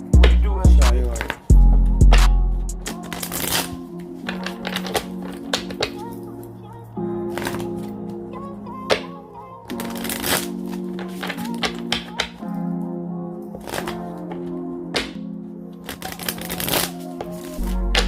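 Tarot cards are shuffled up close in repeated crisp riffles, taps and snaps that come in bursts, while a person talks between and over them.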